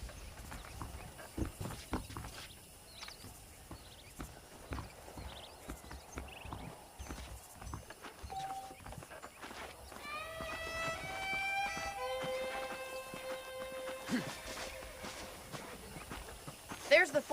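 Horse hooves clip-clop at a steady walking pace in the Western video game Red Dead Redemption, moderately close under ambient game sound, with a voice speaking and bright tonal music or effects rising in the latter half.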